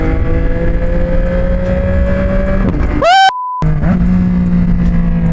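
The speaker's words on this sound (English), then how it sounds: "I am definitely gonna miss this exhaust system. It's been one of the most fun exhaust systems that I've ever ran on a bike, especially with this pop." A Yamaha R9 motorcycle with an aftermarket exhaust revs loudly and steadily, then its pitch climbs sharply in a quick blip before cutting out briefly and settling back to a throbbing idle with a few crackles.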